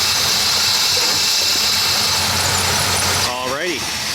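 A truck engine treated with Seafoam runs loud and close with a steady, slightly rough roar, and near the end a brief rising squeal sweeps through the sound.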